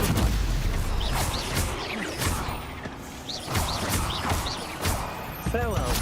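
Spell combat in Hogwarts Legacy, with repeated sharp blasts and impacts landing at irregular intervals, along with shouted spell incantations and whooshing effects, loud and busy.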